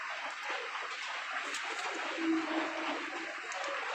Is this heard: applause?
no